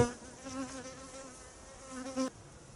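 Honey bees buzz at an apiary in mid-August during the honey harvest, a steady nearby droning hum with slight rises and falls, faint and continuous, with no voices.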